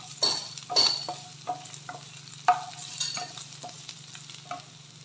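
Green chili and potatoes are sautéed in a pan, with a soft, quiet sizzle under a series of scraping, clinking stirs at an uneven rhythm, some louder than others.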